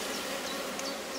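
A honeybee colony hums at an open hive, a dense, steady buzz close by with individual bees droning past now and then.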